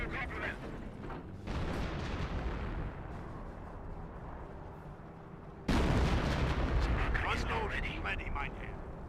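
Bursts of small-arms gunfire aimed at a sniper in Company of Heroes, a World War II strategy game, with rattling shots and a sharp jump to louder combat noise midway, all under steady commentary.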